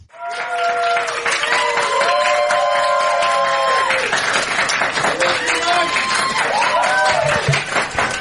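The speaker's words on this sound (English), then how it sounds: "It's that good clapping style that makes it sound more crowded" Audience clapping for comedian Demetri Martin in a studio, a dense, steady burst of applause filling the room while people talk and a whoop or cheer rises over it.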